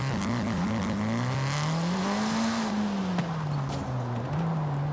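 A car engine in Forza Horizon 5 hums steadily at a moderate rev, its pitch rising and falling gently as the throttle shifts, loud and continuous with no voices.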